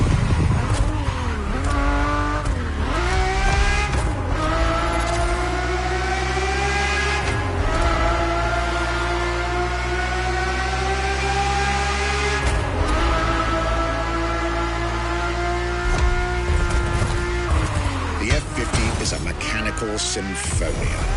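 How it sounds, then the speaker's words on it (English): Ferrari F50's normally aspirated V12 in The Crew Motorfest wails in a steady high pitch, rising and dropping through several gear shifts with tire noise, loud and continuous, while someone narrates over it. "The F50's core is a normally aspirated V12 that came straight from a Formula One."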